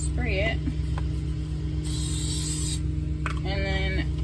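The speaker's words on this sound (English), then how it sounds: "So I'm going to spray it." A short hissing burst of cooking spray cuts through a steady mechanical hum, with brief mechanical whines before and after it.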